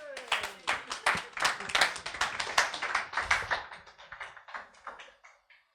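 Clapping from a small workshop audience: distinct, sharp hand claps in an irregular run that start loud and thin out, fading to a few last claps.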